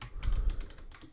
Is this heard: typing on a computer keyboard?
yes